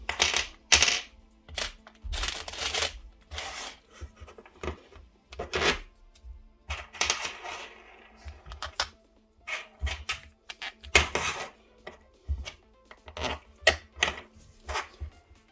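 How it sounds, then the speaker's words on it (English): Small metal screws clatter and tap repeatedly against a battery cell end plate during assembly of a DIY vanadium redox flow battery, a string of sharp, close clicks and rattles in irregular bursts. "into this end plate I will put 4 screws"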